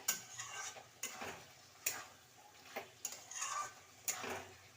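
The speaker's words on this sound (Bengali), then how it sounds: "এবার ভালো করে কষিয়ে নেব" Potatoes and pointed gourd sautéing in a pan, repeated spatula scrapes and soft knocks in an uneven rhythm over a light sizzle, close but quiet.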